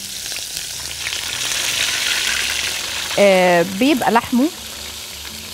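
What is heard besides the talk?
fish frying in olive oil in a pan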